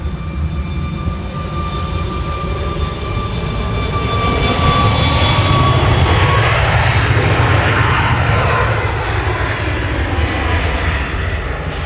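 A Boeing 737 MAX 8 jet at Manchester Airport roars steadily and loudly, its engine noise swelling toward the middle as it passes close by, with a thin whine riding over the broad rumble.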